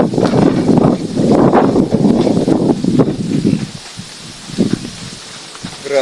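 Wind sweeps through a field of tall rice plants at heading stage, making a steady, fairly loud rustling that swells in gusts and then eases toward the end.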